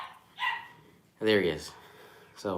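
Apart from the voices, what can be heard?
puppy barking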